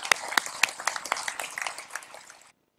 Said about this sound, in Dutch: ik vind dat echt ook een applaus